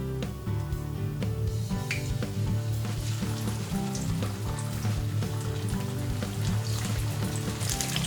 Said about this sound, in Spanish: Y ahora las freímos en abundante aceite caliente